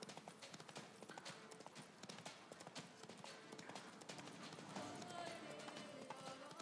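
The horse Roach gallops in The Witcher 3: Blood and Wine, a brisk, rapid clip-clop of hooves that runs steadily through the clip, with game sounds and players talking faintly underneath.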